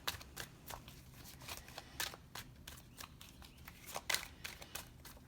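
An oracle card deck being shuffled by hand, a string of quick papery riffles and slaps at close range, a few sharper bursts standing out, no talk.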